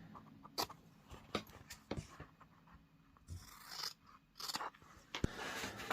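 Scissors snip through fabric pieces being cut out for a sewn layer cake tray, giving several short, sharp crisp cuts with quiet rustling between them, close and fairly faint, with no talking.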